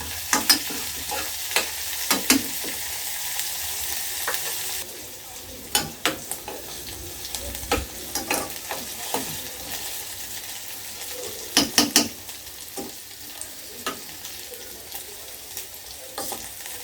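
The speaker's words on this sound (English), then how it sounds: "Let's stir fry a little bit." Food stir-fries in a pan with a constant close sizzle, broken by repeated sharp clacks and scrapes of a utensil against the pan, sometimes in quick bursts and sometimes in single knocks; no one speaks.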